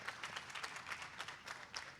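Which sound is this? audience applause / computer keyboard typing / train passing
audience applause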